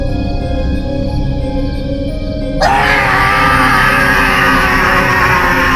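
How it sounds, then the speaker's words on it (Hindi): A man screams in fear as a horror story sound effect: a loud, harsh, sustained cry bursts in abruptly after a few seconds of tense, eerie ambience and continues to the end. "अमित भयानक चिल्ला उठा"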